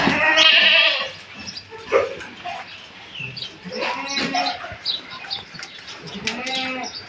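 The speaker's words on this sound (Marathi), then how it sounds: "गामन शेळ्या या कप्प्यामध्ये असतात" Pregnant goats kept in a separate pen on a goat farm bleat loudly and repeatedly, several close, overlapping calls with brief pauses, alongside faint farmyard background noise.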